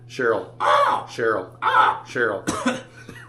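A person imitating a crow's caw, giving six harsh, raspy caws in a steady sequence, loud and close, the last one sounding rougher than the rest.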